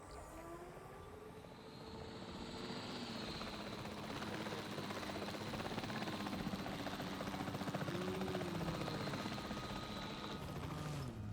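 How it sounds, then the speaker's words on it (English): A capture team helicopter in the Jurassic World Evolution 3 video game flies steadily, its rotor and engine drone continuous and building slightly, with no voices. "The priority needs to be tranquilizing it with the capture team chopper."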